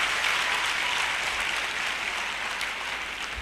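An audience claps steadily at a speech, a dense even applause sustained throughout without a break.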